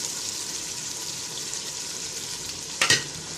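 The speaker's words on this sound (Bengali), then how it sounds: "আদা রসুনটা ভালো করে ভাজা নেব।" Ginger and garlic paste fries in a pot with a steady, close sizzling hiss, briefly interrupted near the end by a quick clatter of stirring.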